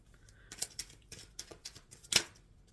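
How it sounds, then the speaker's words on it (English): Crisp, papery riffling of tarot cards being shuffled in quick bursts, close and fairly quiet, with a louder snap near the end. "Shuffling for August energy for Leo"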